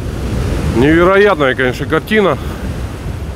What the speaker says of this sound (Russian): Но волны еще сильные, очень сильные.